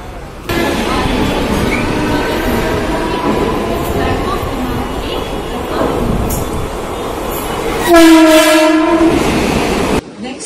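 A Mumbai local train runs on the line, a loud continuous rumble and rattle from on board, with the horn sounding sharply near the end.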